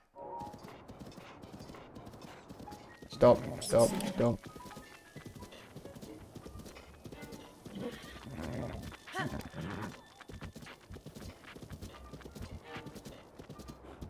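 Horse hooves clip-clop in a short burst in the video game Breath of the Wild under a person talking, with a few louder hoof strikes standing out briefly.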